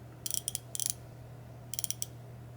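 A Carlyle or Icon 90-tooth ratchet clicks in the loosen direction, giving two quick bursts of fine, closely spaced metallic clicks, near and clear over a low steady hum.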